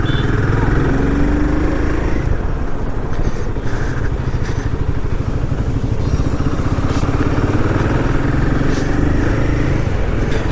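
A Royal Enfield 450 motorcycle being ridden gives a loud, continuous engine rumble mixed with heavy wind noise throughout, with faint talk now and then.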